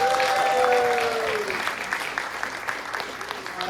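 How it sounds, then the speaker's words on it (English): Applause from an audience at a realtor panel event, steady clapping beneath a fading tonal sound at the start, with some crowd murmur mixed in. "So let's give them a round of applause."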